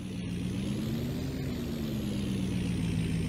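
A heavy truck in a farming video game, set on a Nebraska farm map, drones with a steady low engine hum and a faint high whine, and a short hiss of air brakes near the start.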